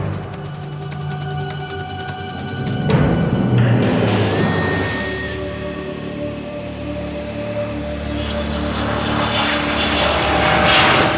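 An F-18 fighter jet touches down during Canadian military pilot training, with a loud, sustained roar that swells into a heavy rushing surge, plus high engine whine tones throughout.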